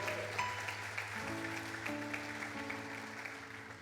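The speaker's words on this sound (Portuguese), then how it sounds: "Você pode aplaudir a Ele, por favor, faça isso com alegria." Congregation applauding during a church worship service, moderate clapping spread through the room while sustained organ or keyboard chords play underneath.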